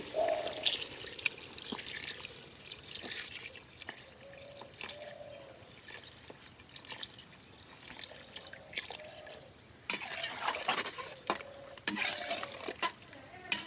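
Beef curry simmering in a pot for a northern Bengal meal, with broth poured in and stirred, giving a steady wet pouring and sloshing sound with scattered clinks of a spoon against the pot throughout.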